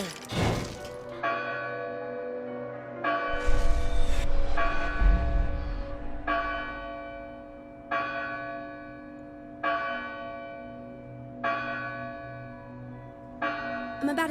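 Bell ringing in the video game Dustborn: a large church-style bell struck repeatedly at a steady slow rhythm, each clang ringing out with a long shimmering decay, plus a brief crashing impact and rumble early on.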